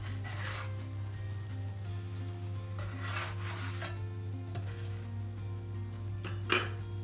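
Lahmacun cooking in an uncovered pan so the underside browns: a steady, close hum with soft scraping and stirring, light sizzling, and a sharp clink of utensil on pan near the end.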